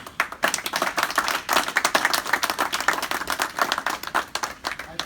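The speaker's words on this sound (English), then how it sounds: "I want you to give you all a hand of applause for yourselves." A room full of people clapping at a workplace safety stand-down event, a lively sustained round of applause with dense, uneven claps throughout.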